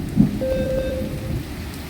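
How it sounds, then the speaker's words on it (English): Thunder rumbles low beneath steady rain during a storm, with a brief, fairly loud swell near the start and the rain continuing as a constant hiss. A thin sustained tone sits over the storm for about half the clip. "Can you hear the thunder?"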